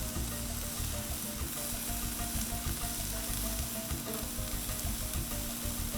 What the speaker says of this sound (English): So you can hear the sizzle.